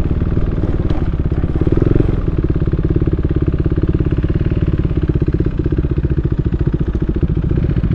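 A motorcycle engine runs close and loud with a steady rapid thumping beat, the throb holding throughout as the bike arrives and keeps running near the listener.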